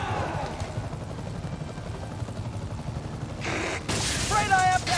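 A helicopter in the Spider-Man Remastered video game gives a low, steady rotor drone under game sound, then gunfire bursts and sharp booms come in near the end, with voices speaking over it.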